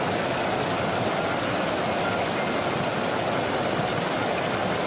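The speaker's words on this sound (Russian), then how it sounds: "Не дождь, а именно град" Heavy hail pelting down during a football match, a dense, even roar of impacts that stays loud and constant throughout, with no voices.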